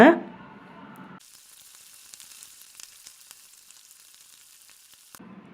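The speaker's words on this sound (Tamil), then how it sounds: "எண்ணெயெல்லாம் எதுவுமே சேர்த்தாமல் ஒரு பாத்திரத்தில் போட்டுட்டு நல்லா வறுத்துக்கலாம்" Spices and grated coconut dry roast in a pan without oil for a chicken kulambu, a faint, thin crackling hiss with light ticks running for several seconds, bracketed by brief voice sounds at the start and end.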